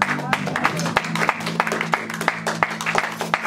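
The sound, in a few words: congregation applauding in church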